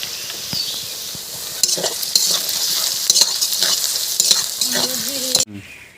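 Bay leaves, black cumin and fennel seeds fry in hot oil with a loud, continuous close sizzle, broken by scraping from stirring, before cutting off abruptly.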